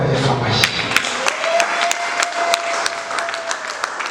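A church congregation claps and applauds with dense, sharp hand claps that keep going, while a sustained tone rings beneath and voices mix in.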